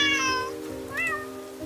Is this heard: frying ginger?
no